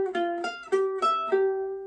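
Ukulele picking the opening section of a song's intro, six plucked notes in a quick even rhythm ringing close and clear, with no voices.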